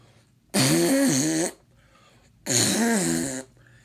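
A loud fart on live TV comes as two long, blaring blasts about a second each, separated by a short quiet gap, with a wavering buzzy pitch.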